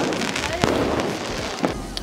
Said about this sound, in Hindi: तो यार पीछे स्काई शॉट जल रहे हैं